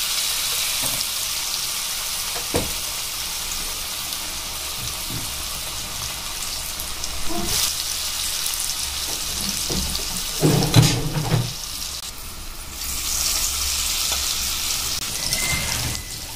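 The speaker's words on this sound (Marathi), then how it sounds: "हे आता चांगल्या प्रकारे तळतं आहे" Vada fritters dipped in besan batter fry in hot oil in a kadhai, giving a steady broadband sizzle throughout with a few louder bubbling bursts, and no talking.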